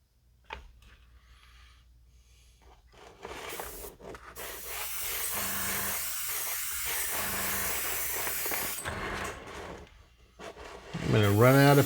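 Paint sprayed from a can onto a Space Station K7 model kit at 1:7600 scale, a long close hissing burst with brief pauses between sprays and a voice talking at the start and end.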